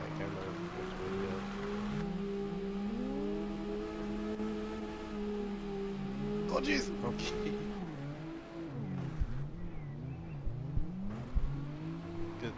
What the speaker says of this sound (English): This is a Sam Busso Zoka car that is drifting for some reason